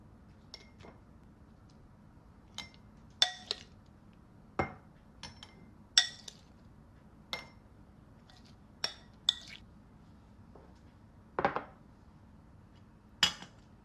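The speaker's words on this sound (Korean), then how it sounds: "섞은 오이는 보관 용기에 옮겨 담아주고요" Salted cucumber moved from a mixing bowl into a storage container: a sparse series of light clinks and taps, a dozen or so scattered over the stretch, close and quiet with no speech.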